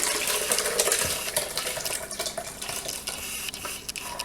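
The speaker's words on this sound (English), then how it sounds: "So I'm just going to pour my soup right into the Vitamix." Soup is poured into a Vitamix blender, a continuous close, splashy liquid pour with gurgling, loudest at first and easing slightly toward the end.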